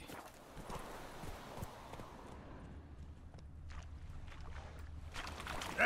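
Roach the horse's hooves clopping along in The Witcher 3, a steady, moderately faint rhythm of footfalls over a low rumbling background, with no voices.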